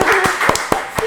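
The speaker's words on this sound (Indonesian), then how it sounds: "Tepuk tangan dulu dong." Hand clapping at an Indonesian university podcast discussing an Islamic economics study program, with several sharp claps in an irregular rhythm, close and fairly loud.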